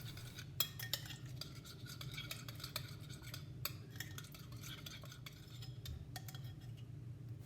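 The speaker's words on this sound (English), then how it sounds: "Now you want to give it a good old stir until it's all mixed together." Tofu being stirred in a bowl with hoisin sauce and garlic salt, a spoon scraping and clinking against the dish in irregular close taps over a low hum, with no talking.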